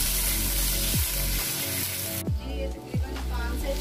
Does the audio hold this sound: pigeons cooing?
no